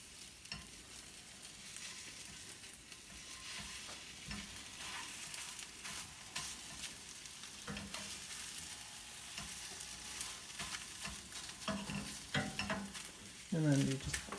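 Food fries with a continuous crackling sizzle in a pan while a spatula turns it, bringing scattered scraping knocks and a louder clatter near the end.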